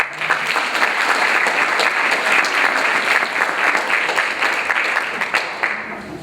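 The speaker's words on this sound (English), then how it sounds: "Let's give her a big round of applause for Mallory." Steady, full audience applause for a student presenter at a middle school summer institute's final presentations, a dense continuous roar of clapping that holds for about six seconds before easing slightly.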